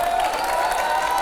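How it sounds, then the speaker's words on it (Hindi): Audience applause welcoming Mamta Kulkarni, now known as Yamai Mamta Nandgiri, on stage: a steady wash of crowd clapping and cheering, fairly loud and continuous throughout. "जोरदार तालियों से स्वागत करिए।"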